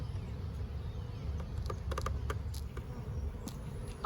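Honey bees from a newly installed package hum in a low, steady buzz close by, with a few faint clicks and creaks breaking through.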